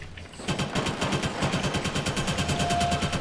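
Rapid automatic gunfire in a retro console shooter, a steady stream of sharp bursts firing nonstop after a brief quiet start, loud and close, with no talking.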